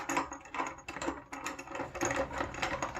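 Nut being spun by hand along the threaded rod of a bandsaw fence end clamp, giving a steady run of close metallic ratcheting and rattling clicks for about three seconds with no talk.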